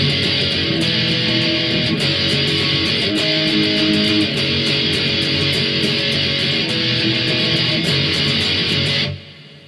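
Distorted electric guitar plays the pre-chorus of a song, a steady strummed chord progression with rhythmic accents, loud and continuous for about nine seconds before stopping.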